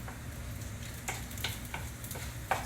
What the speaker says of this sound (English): So I can see my garlic is starting to sizzle.